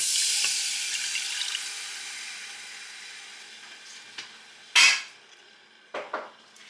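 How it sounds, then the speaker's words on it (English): Water pours in a hissing stream into a pot, fading off, followed by a few clunks of cookware. "now we're going to add 3/4 cup of water."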